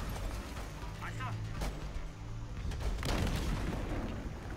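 Tank cannon fire in Homefront The Revolution booms in a few heavy, rumbling blasts amid a noisy battle, with players talking over it.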